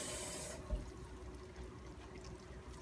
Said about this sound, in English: I'm just going to pour it into this jar.